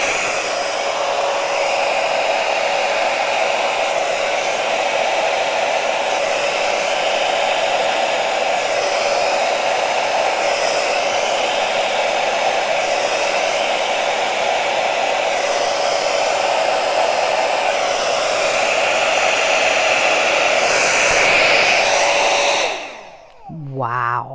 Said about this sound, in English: here we go with the blow dryer that I've never used before